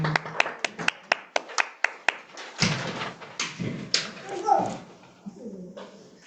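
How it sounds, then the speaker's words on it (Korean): A church congregation at a Sunday service claps in an even rhythm, about ten sharp claps, then the beat breaks into scattered clapping and cheering voices. "하나님께 영광의 박수 올립니다."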